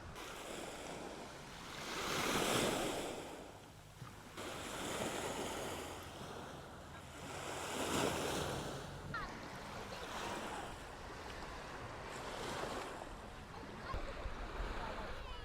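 Waves wash onto Puerto Pollensa beach in Mallorca, swelling and receding roughly every few seconds in soft, broad surges, with steady wind buffeting the microphone throughout.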